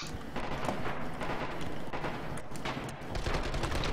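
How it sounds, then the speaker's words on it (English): Machine gun fire in the Red Orchestra 2 video game, sustained rapid bursts of automatic fire with distant battle noise, steady and dense throughout. "I'm getting kills because I have this machine gun"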